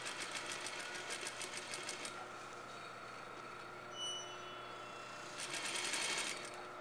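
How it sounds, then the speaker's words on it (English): A sewing machine stitches along a sleeve cuff line, its rapid needle chatter running in bursts at the start and again near the end, with a quieter steady hum between. "I like to do it from cuff side up so that I could see the precise line that I'm sewing along."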